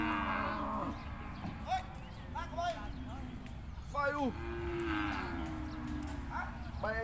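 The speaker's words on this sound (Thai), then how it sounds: "ครับวัวกำลังถ่ายขึ้นรถกันนะ" Beef cattle being loaded onto a truck at the Sikhoraphum cattle and buffalo market in Thailand give several drawn-out moos, some close and some farther off, over crowd chatter and a busy outdoor market background.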